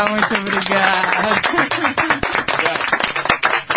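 Hands clap in a Brazilian radio studio while people talk and laugh over it. The claps are sharp, close and irregular.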